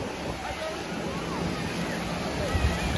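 Surf washes steadily onto a sandy beach at Sandbanks, a continuous broadband rush mixed with wind noise on the microphone, fairly loud and unbroken.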